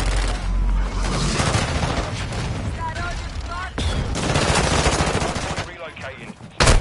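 Dense gunfire in the Warzone battle royale game, loud and sustained with overlapping bursts and booms, briefly dropping before resuming with a sharp blast at the end.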